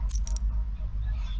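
The keys task in the Among Us video game gives a few short, bright metallic jingles near the start, heard over a steady low hum of game audio.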